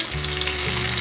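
Vegan shrimp made from potato and tomato frying in hot oil, a dense, even crackle and hiss held steady and close for a brief moment, with no voices.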